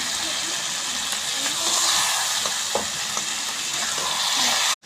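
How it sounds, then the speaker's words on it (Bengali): Eggplant frying in oil in a pan makes a loud, dense, close sizzle with steady crackling and a few sharp pops, cutting off abruptly at the end. "বেগুনগুলো কিন্তু সব সুন্দর লাল লাল ভাজা হয়ে গেছে"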